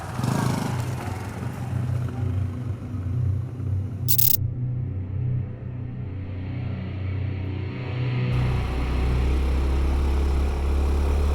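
A vehicle rumbles steadily along a remote desert road toward an old ghost-town mine, its engine drone loud and continuous throughout, with wind or road noise thickening in the final few seconds.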